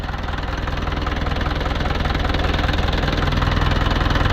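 An Isuzu 4BC2 diesel engine idles up close, loud and steady with a rapid, even knocking chug and some vibration, with no voices.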